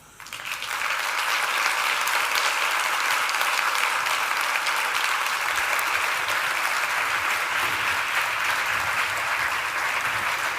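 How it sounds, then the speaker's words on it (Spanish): Sustained applause fills a lecture hall after a talk on women in technology, a dense steady wash of clapping from a large audience that swells quickly and holds. "Fuerte ese aplauso"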